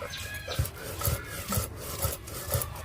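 Jackfruit seeds are ground on a grinding stone with a rough scraping rub, repeated in a steady rhythm of about two strokes a second, close and moderately loud.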